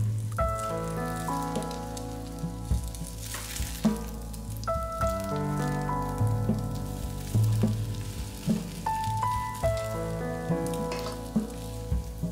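Kaiserschmarrn batter fries in clarified butter in a pan, giving a steady close crackling sizzle with scattered pops. Music plays in the background and no one speaks.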